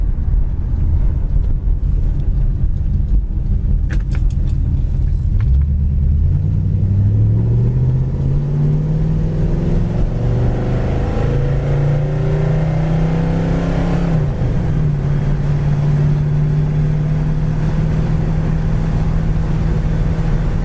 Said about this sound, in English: Car sounds real good as far as the exhaust.